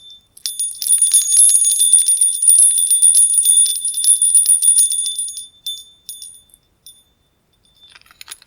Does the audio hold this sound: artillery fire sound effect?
no